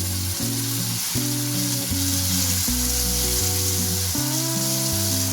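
Homemade tomato puree sizzles steadily in a hot pan as it is stirred, with a hissing crackle running under background music.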